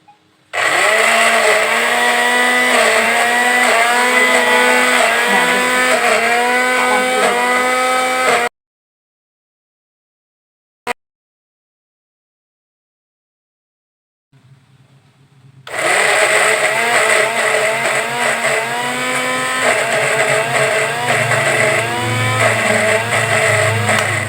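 Kitchen blender grinding a spice paste with a little water for a bongko dish, whirring loudly and steadily, stopping for several seconds of silence and then starting again at full speed.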